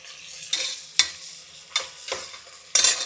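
Green chillies frying in hot oil while being stirred with a spoon, a steady sizzle broken by several sharp scraping stirs close up.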